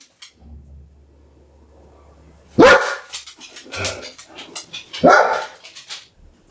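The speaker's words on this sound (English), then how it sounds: "If you keep barking." A dog barks in short, loud bursts close by, with two sharp barks a few seconds apart and softer grumbling sounds between them in an otherwise quiet room.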